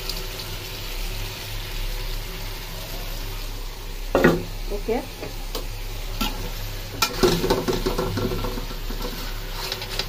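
Fish hiss loudly as they are poured into hot spiced gravy in a wok for a small-fish curry, a sudden burst of sizzle followed by stirring scrapes and bubbling, with a brief spoken word.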